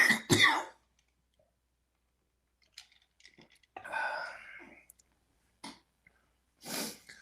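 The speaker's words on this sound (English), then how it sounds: "I'm going to take just a second and really cough." A single person coughs and clears the throat in several separate bursts with silent gaps between them, close and fairly quiet and alone with no talk.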